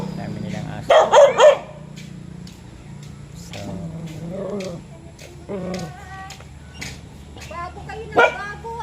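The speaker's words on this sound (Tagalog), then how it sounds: "yan, ang daming aso" Several dogs barking at a house, short yips and barks in bursts near the start and scattered through the clip, partly under a person talking.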